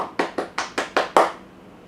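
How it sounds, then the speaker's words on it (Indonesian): Six distinct hand claps at a steady, quickening pace, fairly close and loud, for a Sunday school children's worship service; the last clap is the strongest and rings out briefly before quiet. "Yuk kita berikan tepuk tangan dulu."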